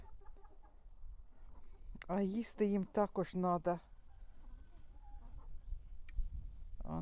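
Chickens on a grandfather's poultry farm cluck faintly in the background while someone talks over them.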